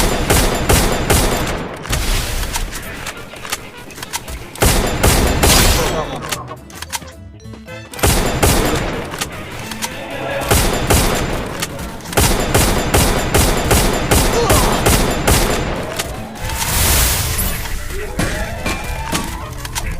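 Rapid bursts of gunfire from a team shooter video game, with repeated volleys and sharp cracks running throughout, layered with game effects and players talking over the action.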